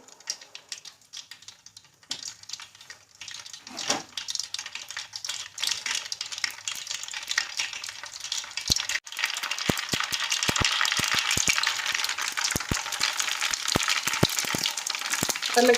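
Mustard seeds and cumin crackle in hot oil, starting as faint scattered pops and building to dense, continuous sizzling with sharp spattering pops in the second half.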